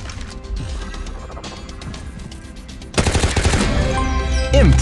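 Rapid machine gun fire from Shadowgun War Games, a mobile PvP first-person shooter played on an iPhone XR, with dense rattling bursts that grow louder halfway through amid crashes and in-game effects.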